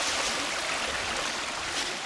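Steady rushing water of a flowing stream, a dense continuous wash of sound close by with no pauses.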